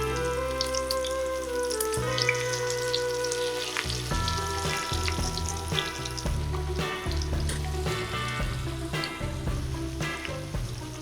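Zucchini fritters (mücver) fry in oil in a pan with a loud, continuous crackling sizzle, joined by scattered taps and scraping as they are pressed and turned.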